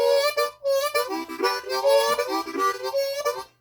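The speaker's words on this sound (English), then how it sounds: "And you see by me cupping my hands, it sounds deeper." Blues harmonica played with the hands cupped around it, giving a deeper, darker tone; a continuous run of wavering, bending notes with short breaths between, close and fairly loud, no talking.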